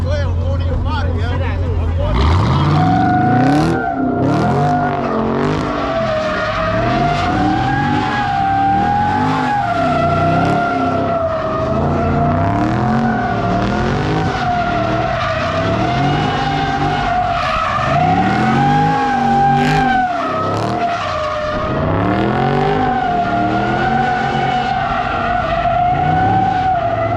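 At a car meet in Philadelphia, cars spin and skid their tires with continuous squealing and a revving engine, loud and sustained, with people talking and shouting over it.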